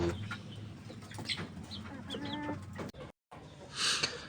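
Home-raised backyard chickens cluck softly in a short series of calls, followed by a brief pause and then one louder squawk.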